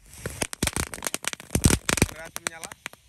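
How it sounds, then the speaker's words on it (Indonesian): A whole pack of blue Rocket Mini firecrackers, fused to go off together, crackles in a dense, rapid run of sharp pops and snaps that lasts several seconds, loud and close. "ini ada mercon Rocket Mini warna biru atau Rocketar. Kita nyalakan satu pak sekaligus guys."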